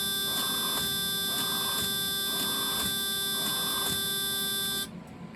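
A Radionics multiple-partition alarm panel buzzer sounds steadily and loudly in a repeating pulsed pattern, roughly every second, with a shrill tonal edge, then cuts off abruptly near the end.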